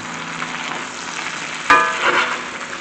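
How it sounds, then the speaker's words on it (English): Seasoned food frying in a pan, a soft continuous sizzle and crackle at close range, with a brief sharper burst of spattering midway. "And this still has at least 15 more minutes to fry"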